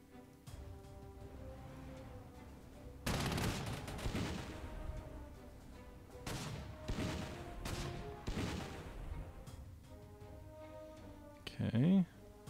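Heavy artillery and gunfire in the WWII strategy game Panzer Corps 2 come as several loud, rumbling volleys and booms in separate bursts, with quieter stretches between and a sharp blast near the end, over a low music bed.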